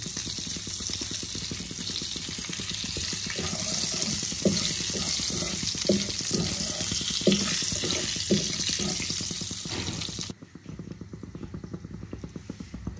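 Whole cumin seeds and two bay leaves dropped into hot oil for a Bengali pabda fish curry, sizzling steadily with a bright crackle and scraping stirs, then the sizzle abruptly drops away near the end.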